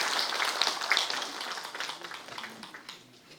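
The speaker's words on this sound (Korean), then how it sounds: "다시 한번 감사의 박수를 보내주시기 바랍니다" Applause from an audience at a Buddhist book-launch ceremony in Busan, thanking a senior monk; broad, steady clapping from a seated crowd that starts full and gradually thins and fades over a few seconds, with no speech over it.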